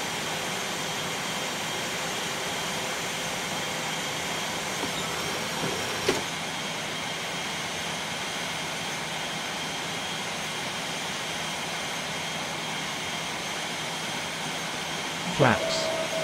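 Aircraft engines during a takeoff climb on a flight from Johannesburg toward St. Helena, a steady broadband cockpit drone at constant level, with a brief click and a short rising tone near the end.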